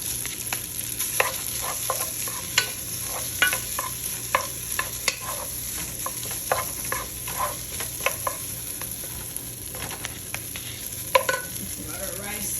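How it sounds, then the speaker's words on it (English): Rice sizzles steadily in a hot pan while a utensil scrapes and clicks against it in irregular strokes, close up, with no voices. "Whatever you do, fry your rice."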